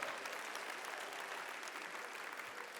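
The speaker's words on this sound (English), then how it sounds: "Bennett another round of applause" Faint, distant applause from a convocation audience at Bowie State University, an even, sustained patter of many hands clapping with no pauses or voices standing out.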